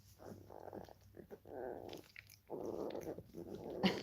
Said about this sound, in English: Look at her, she's trying to chew.